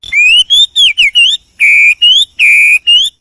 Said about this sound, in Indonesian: mendengarkan burung yang sedang berkicau